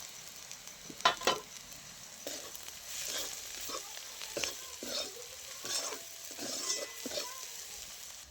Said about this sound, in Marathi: तिखट मीठ चांगलं मिसळले